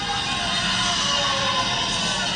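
Volleyball crowd at a CMU versus St. Louis match cheers and shouts after a block at the net, a dense, sustained roar of many voices that holds steady and loud throughout.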